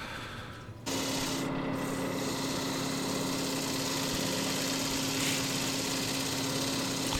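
Steady abrasive sanding of a white oak burl spinning on a lathe, starting around 150 grit after gouge work; a continuous close rubbing hiss over a motor's constant hum, starting abruptly after a brief quieter moment and holding evenly throughout.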